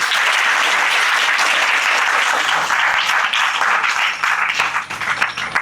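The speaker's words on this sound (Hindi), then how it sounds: "ताली बजाओ इनके लिए" A crowd at a school Independence Day celebration claps loudly and steadily for several seconds, a dense wash of applause with no voices breaking through.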